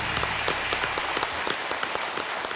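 A studio audience at a television quiz show applauds to welcome a quiz author, a dense, steady patter of many hands clapping with no pause for the whole moment.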